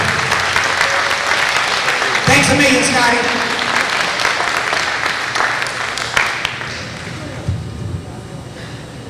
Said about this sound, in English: how about a nice round of applause for Scotty as he makes an exit to the airport